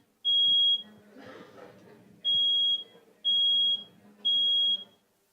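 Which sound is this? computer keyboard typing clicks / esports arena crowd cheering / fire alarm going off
fire alarm going off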